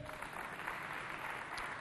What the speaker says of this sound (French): Applaudissez bien fort pour vous, s'il vous plaît.